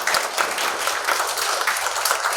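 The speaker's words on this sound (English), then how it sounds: "So big applause to her." Sustained applause from an audience at an academic research symposium, steady dense clapping throughout without a break and no talking over it.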